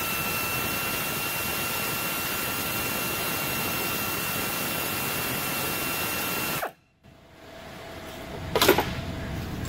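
A power tool backs a 13 mm bolt off an alternator bracket on a Chrysler Dodge 200 Avenger with a loud continuous high whir, then cuts off abruptly, followed by quieter mechanical clicks and a short rattle.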